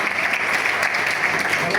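Audience applause at a televised debate panel, a dense, steady wash of clapping that holds at an even level throughout without a break and with no voices standing out.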